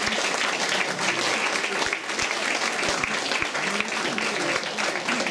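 An audience at a twinning-association gathering between Bessan and Remich claps in a sustained round of applause, dense and even throughout, with a few sharper nearby claps standing out.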